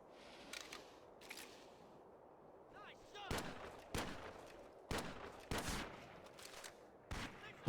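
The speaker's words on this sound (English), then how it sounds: "got a long range headshot there with the pistol" Pistol shots in the PSP shooter Medal of Honor: Heroes, set in the Battle of the Bulge, ring out as several sharp separate cracks spaced a second or so apart, with fainter combat noise between them.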